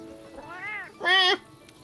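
A house cat meows twice up close, a softer drawn-out call followed by a louder, brighter meow, with quiet background between.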